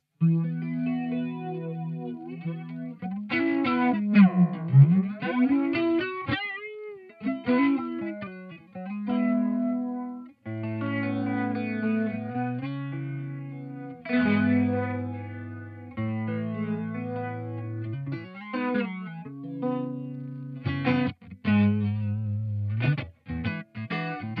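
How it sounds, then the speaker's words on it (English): Dreadbox Komorebi flanger in triangle mode, blended subtly into a sustained synth-like tone, playing a changing sequence of chords and notes with gentle sweeping, chorus-like shimmer and some short gaps, alone without voices. "This is where you can get some nice subtle flangery sort of sound."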